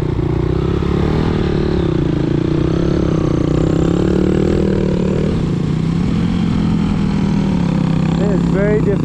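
A Kawasaki KLX 230R dirt bike churns through deep, soupy mud, its engine droning loud and steady with shifting revs throughout, heard up close from the rider's position.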